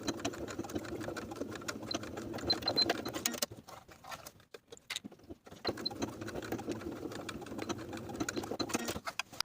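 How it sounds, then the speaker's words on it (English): A sewing machine runs steadily while top stitching belt loops onto a pair of pants, with one short pause midway before the rapid stitching chatter resumes, close and alone. "Top stitch the top edges of each belt loop in place."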